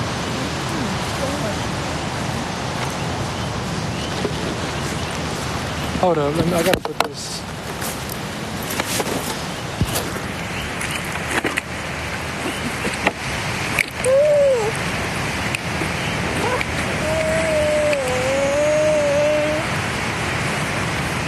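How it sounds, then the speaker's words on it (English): Steady broadband hiss of rain at a beach runs throughout, with someone talking close by and brief bumps and handling noises partway through. "Damn, it's raining."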